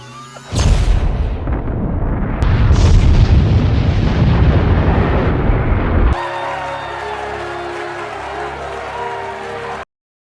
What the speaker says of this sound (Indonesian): nuklir yang berada di ruangan mulai meledak, menciptakan efek gelombang